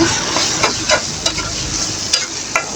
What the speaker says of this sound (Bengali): আর দুই থেকে তিন মিনিট নেড়ে চেড়ে ভালো করে বাজিয়ে নামিয়ে নিব